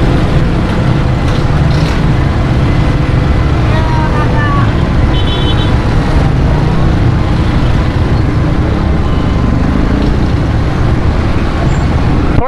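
Road traffic rumbles past near drain cleaning work, a continuous loud roadway drone with passing vehicles, and a voice speaks over it.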